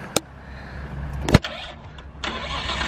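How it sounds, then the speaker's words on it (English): A drift car's engine starts with a sharp crank and catch after a few door and interior clunks, then settles into a steady near idle with hiss, no voices. "So Daigo just got in the car, ready to give some tips for Tori, and they're ready to go do some donuts."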